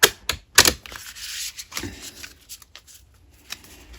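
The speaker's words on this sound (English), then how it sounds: "let's split the cards, see what's going to come out" Tarot cards split and shuffled by hand, a quick run of crisp riffling bursts followed by scattered softer taps and slides of the deck, close and alone.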